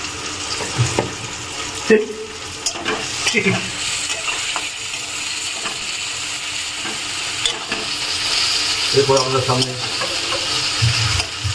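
Onions frying in a pan with a pinch of salt for a dhaba-style chicken, a steady sizzle running throughout with intermittent scraping stirs and clinks of a spatula close by.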